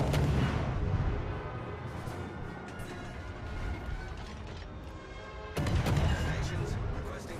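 Naval gunfire in World of Warships: Legends, with a Cossack destroyer in battle, heard as loud, dense booming and mechanical clatter that swells at the start and again near the end, under voiced radio-style chatter.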